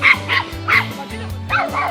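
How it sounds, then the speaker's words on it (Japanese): Shiba Inu dogs bark and yip in short repeated bursts, fairly close, with a whimpering edge and no talk over them. "そんな吠えないよ。"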